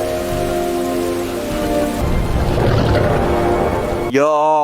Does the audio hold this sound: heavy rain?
yes